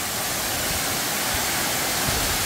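Steady, dense roar of a waterfall about 20 metres high falling onto rock close by, Suok Falls in Goesan, South Korea, broadband and unbroken throughout, with no voices.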